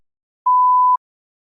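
One steady, mid-pitched electronic tone lasting half a second, isolated in silence.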